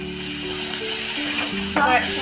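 Tomatoes with red chili powder and turmeric fry in a pan for pasta, giving a steady close sizzle with a brief louder burst of stirring near the end.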